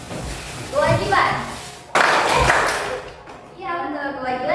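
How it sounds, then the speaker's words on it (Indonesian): Children in a classroom game clap their hands in short bursts, quick runs of claps alternating with an adult voice giving instructions, close and lively. "Iya betul, kewajiban tepuk tangan."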